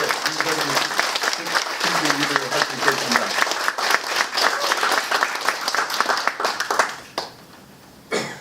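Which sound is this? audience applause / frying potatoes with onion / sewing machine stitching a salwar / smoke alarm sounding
audience applause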